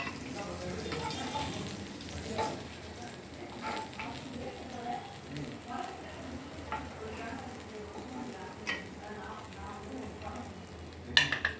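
Onion paste and ginger-garlic paste fry in a pan for a tomato curry, giving a soft continuous sizzle with occasional stirring scrapes and a clink of utensils near the end, and faint speech in the background.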